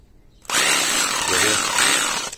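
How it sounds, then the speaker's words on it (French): A cordless drill-driver whirs up suddenly at close range and runs for about two seconds with a steady high-pitched whine, rising slightly in speed before it cuts off. "Et alors, visseuse, dévisseuse, perceuse."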